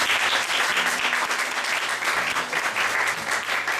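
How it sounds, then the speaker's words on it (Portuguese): Church congregation in Japan clapping hands in praise, a sustained, even applause from a sizable crowd with a faint low hum beneath. "Vamos aplaudir o Senhor Jesus?"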